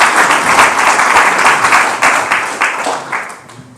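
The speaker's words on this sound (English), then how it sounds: "We can give them a round of applause," An audience at an award ceremony for green businesses applauds, with dense, steady clapping filling the room up close before it gradually thins out toward the end.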